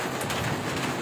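Dense, steady roar of heavy rain pouring down in Bandra, Mumbai, loud and close, with no talking.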